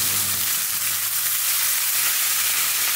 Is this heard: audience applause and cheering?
no